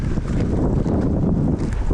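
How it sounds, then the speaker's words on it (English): Strong outdoor wind buffets the microphone in continuous low roaring gusts on a winter cycling route, loud and broadband with no speech. "it's a little bit too windy even for an intro"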